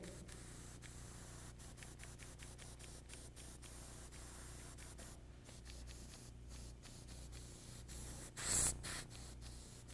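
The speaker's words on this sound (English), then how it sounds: "Make sure your airbrush is spraying it." Continuous hiss of an airbrush spraying blue paint, steady and close, with a brief louder burst near the end.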